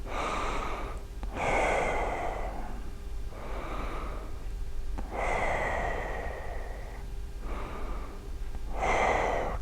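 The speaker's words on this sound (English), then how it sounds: "Just breathing and focusing." Deep, slow breaths during a full-body stretching and meditation session: long inhales and exhales alternating in a steady rhythm, close and fairly loud.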